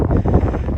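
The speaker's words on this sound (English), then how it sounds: "I know it's windy, sorry about that" Strong wind buffets a handheld microphone outdoors in snowy weather just before a storm, a loud, continuous rumbling roar with no speech.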